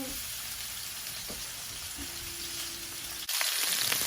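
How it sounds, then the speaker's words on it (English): Cajun salmon seared in a hot pan over high heat, giving a steady close sizzle and hiss that holds for the whole stretch and swells a little louder near the end. "that's why I have it kind of up high, so that it can just get a nice sear on it"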